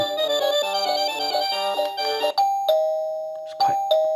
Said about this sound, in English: that's different tunes for the actual bell